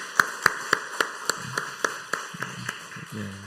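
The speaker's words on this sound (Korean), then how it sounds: "우리 격려의 박수 한번 우리 쳐드리도록 하겠습니다" Sparse, uneven claps from a church congregation at a Friday late-night prayer meeting, encouraging the worship team, about a dozen sharp hand-claps spaced unevenly and fading, with faint low murmuring toward the end.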